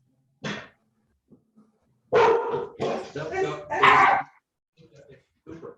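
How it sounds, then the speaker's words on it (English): Dogs bark during a video meeting: a single bark burst, then a cluster of several loud barks and yips fairly close to the microphone, followed by faint scattered yelps. "because the dogs are barking"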